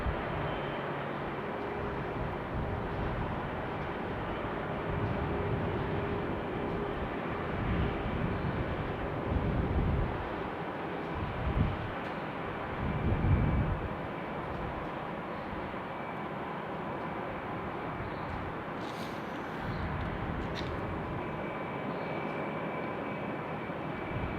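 A Delta airliner takes off from Salt Lake City International Airport, a steady distant engine roar that swells slightly in the middle and then holds, with no talk.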